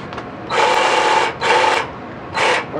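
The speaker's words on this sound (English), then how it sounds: "Let's try our skills for sawzall." A Black & Decker reciprocating saw powered by a converted Makita 18V lithium-ion battery runs in three short bursts, the first two nearly a second each and the last one briefer, each buzzing loud and close with pauses between.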